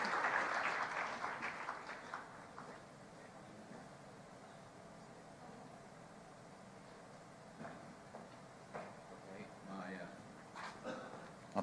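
Applause greets a panel moderator at the opening plenary of the Global Landscapes Forum 2016 in Marrakesh; a brief burst of clapping fades within about two seconds, leaving faint room noise and distant talk.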